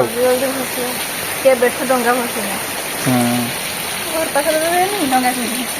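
Steady rain falls in a continuous hiss beneath nearby voices talking throughout.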